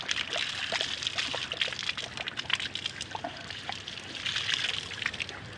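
Spring water trickles and splashes steadily beside the Labi River in Bungabon, Nueva Ecija, a close, continuous watery dribble with no one talking.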